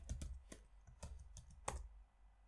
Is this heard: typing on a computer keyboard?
yes